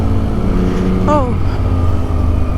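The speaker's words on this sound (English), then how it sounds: "It's a car." A car drives past on the road during a first motorcycle ride, its engine rumble loud and close throughout, with a brief rising whine as it goes by; no talk over it.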